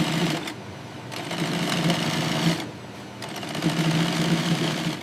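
Industrial sewing machine stitching a stretched ribbed cotton neckband onto a shirt, running in a steady rapid whir with brief pauses near one and two and a half seconds, loud and close with no talk.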